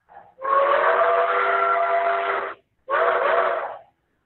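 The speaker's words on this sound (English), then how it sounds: "we'll pick a L&N passenger 3 chime" An L&N passenger three-chime steam whistle from a Tsunami2 model train sound decoder gives a short chirp, then a long steady chord blast, a brief gap and a second shorter blast, clear and alone.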